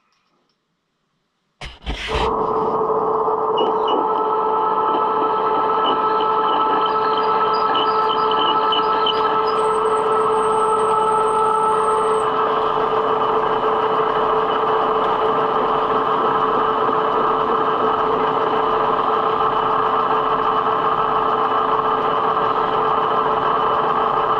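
Metal lathe turning a chucked piece of aluminum while machining a new nut, starting abruptly from silence into a loud, steady motor whine with a faint higher tone for a few seconds, running continuously with no speech.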